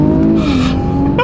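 A 2024 Infiniti Q50 Red Sport 400 launches hard in manual sport plus mode, its loud engine roaring steadily and rising briefly, heard from inside the car.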